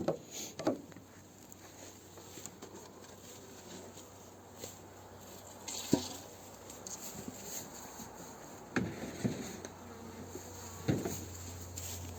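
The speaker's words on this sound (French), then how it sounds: "Là, ce sont encore des abeilles d'été." Honeybees humming at a hive during feeding, a steady low buzz with scattered brief clicks and knocks close by, no voices.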